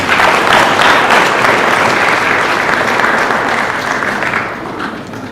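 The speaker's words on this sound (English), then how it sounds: "Ladies and gentlemen, a big round of applause for Dr. Nkumba Piri." Loud, sustained applause from a conference audience greeting a speaker at an international multidisciplinary conference, a full, even wash of clapping that fades slightly toward the end.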